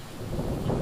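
Heavy rain pours steadily in a thunderstorm, a dense loud wash with a low rumble beneath it, used as an audiobook sound effect with no speech.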